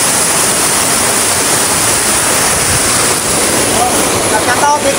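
A waterfall roars as a dense, steady broadband rush of falling water, loud and close throughout with no letup, with a hint of wind buffeting the microphone.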